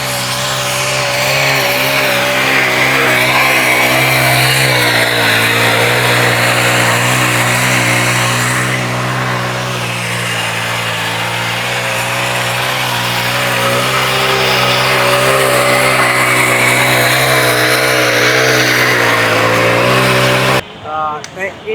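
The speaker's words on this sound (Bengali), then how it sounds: "আমার পিছনে দেখতে পাচ্ছেন একটি মিনি পাওয়ার টিলার দিয়ে ফুলের জমিগুলো চাষ করা হচ্ছে।" A petrol-powered mini power tiller ploughs a flower field, its small engine giving a loud, steady, buzzing drone close by that wavers slightly in pitch throughout before cutting off abruptly at the very end.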